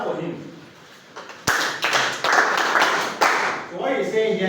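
A classroom of students claps for a classmate in a maths lesson, starting with a sharp burst and continuing as loose, uneven patters for a few seconds, with brief voices around it.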